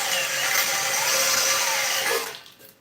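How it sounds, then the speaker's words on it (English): A power drill whines steadily and loudly for about two seconds as it bores a hole for a stabilizer, held at a slight angle, then winds down and stops. "So this hole needs pushed this way a bit, so I'll just hold the drill on a wee angle to start off."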